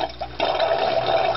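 Water drains from an ebb and flow geyser switch, starting with a soft trickle and then rising into a steady, close gurgling rush.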